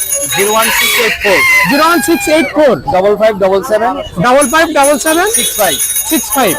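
Roosters crow loudly and repeatedly, close by and overlapping, with clucking hens at a fancy poultry market selling breeds such as Aseel, Serama and Silkie chickens, a busy cacophony of birds throughout.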